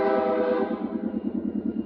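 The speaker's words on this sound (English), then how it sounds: "we're waiting on the train." Train passing close by, its horn sounding a sustained tone that cuts off, followed by a rhythmic clatter of wheels over rail joints.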